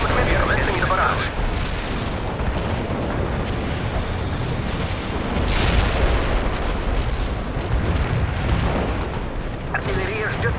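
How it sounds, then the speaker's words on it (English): Sustained artillery barrage from the World in Conflict video game, a dense continuous rumble of booms and blasts with voices talking over the bombardment throughout. "Commencing the barrage."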